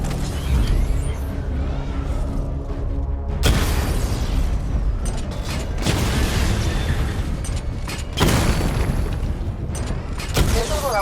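A missile barrage in Batman: Arkham Knight destroys targets in a series of loud explosive bursts, booming and crackling over a rumbling mechanical game background.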